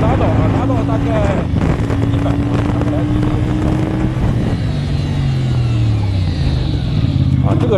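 A CFmoto CLC450 cruiser motorcycle rides along a road, its mid-range engine droning loudly with pitch rising and falling through gear changes and a curve, wind rushing past, while a rider talks over it.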